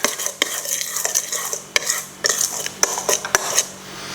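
A spoon stirs flour into a thick cheese batter in a bowl, giving close, repeated scraping and knocking strokes against the dish in an uneven rhythm, alone without talk.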